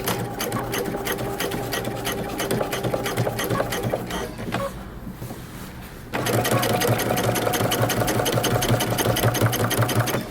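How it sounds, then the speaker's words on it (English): A sewing machine runs close and loud, edge-stitching a jeans seam allowance in two long steady bursts split by a brief quieter pause, with no voices. "we're going to stitch close to the edge"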